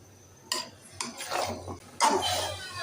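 Duck meat being stirred in a cooking pot: a few sharp metal scrapes and clanks of a spoon against the pot at irregular intervals, close and fairly loud, with faint sizzling between them and no speech.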